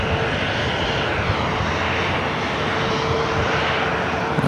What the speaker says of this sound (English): This flight coming in from Atlanta, Georgia, flight 3401 at 737-800, pulling into gate D5.